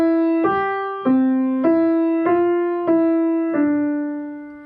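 A piano's right-hand part played alone in a beginner lesson, single clear notes struck at an even, unhurried pace, each ringing and fading before the next, close and alone.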